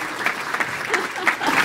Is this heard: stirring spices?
no